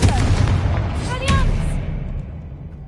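A Confringo blasting spell explodes in Hogwarts Legacy, one loud burst with a crackling tail around the middle, set over a steady rumbling game background before fading.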